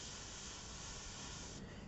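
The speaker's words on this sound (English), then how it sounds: "And you spray through the little openings of this, of these little fibers here." An airbrush sprays paint through a fibrous stencil for hair texture on a portrait, making a faint, continuous, even hiss with no pauses or talking.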